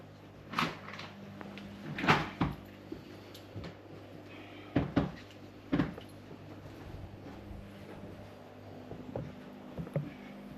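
A locked terrace door is rattled and tugged: several separate clunks and knocks of the handle and frame, fairly quiet and scattered over a faint background hum, with no talking.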